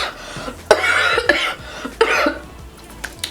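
A woman coughs deliberately several times, three sharp bursts spaced apart and close to the mic, each trailing into raspy breath, with no other talk around them.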